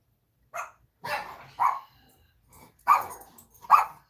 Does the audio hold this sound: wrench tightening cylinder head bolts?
no